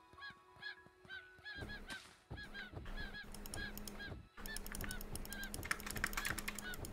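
Chicken in the Craftopia video game, a series of repeated clucking and honking calls over game sounds and rapid keyboard clicking.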